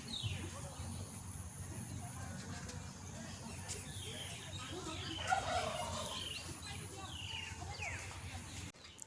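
A turkey kept at a resort gobbles and calls amid a busy outdoor mix of other bird chatter, steady and moderately loud, with people talking nearby throughout.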